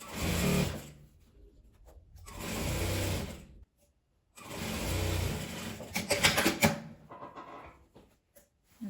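A sewing machine hems a folded fabric drawstring bag in several separate bursts of whirring stitching, each a second or two long with short silent pauses between, close by with a few clicks near the end.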